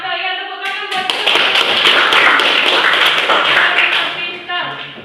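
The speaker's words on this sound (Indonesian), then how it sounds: "Ya, tepuk tangan buat itu." A classroom claps for a student's answer: dense, close, enthusiastic applause from many hands rising quickly and holding for several seconds before tapering off.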